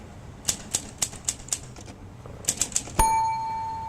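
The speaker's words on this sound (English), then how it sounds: "Is that a typewriter?" Typewriter keys strike in two quick bursts of sharp, evenly spaced clacks, five then four, closely followed by a bright carriage-return bell that rings out and fades, crisp and near with no talking.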